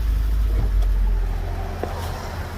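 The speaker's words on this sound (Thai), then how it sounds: "เดี๋ยวเรามาฟังเสียงเครื่องยนต์กันดีกว่า" A steady, low engine rumble from a 2015 Ford Fiesta 1.5 Sport runs throughout, with a faint higher hiss above it and no voices.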